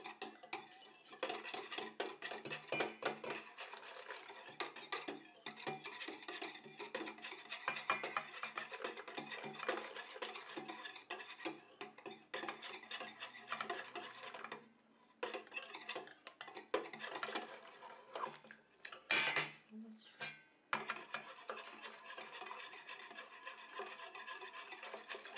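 A spoon or whisk stirs nonstop as a water phase is mixed into a melted oil phase in a bowl, a steady scraping, clinking rhythm that carries on throughout with a couple of brief pauses, close and moderately loud, no talking.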